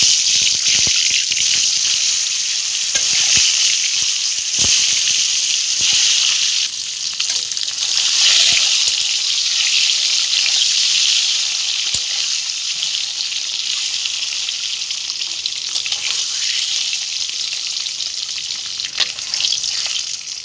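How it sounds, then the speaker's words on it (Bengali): Eggs fry in oil seasoned with a pinch of salt and turmeric in a wok, giving a loud, steady, crackling sizzle up close that runs throughout with occasional sharp spatters. "এবারে ডিমগুলো ভেজে নেব।"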